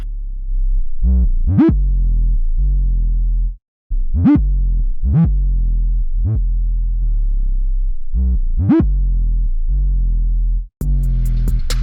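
A heavy, gritty 808 bass made in Serum, with added drive, plays a repeating pattern of gliding, pitch-bent distorted notes, loud and upfront with no other instruments.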